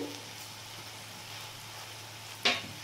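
Koi fish masala with yogurt sizzles softly in a pan as it is sautéed, a steady faint frying hiss with a brief louder scrape of stirring near the end.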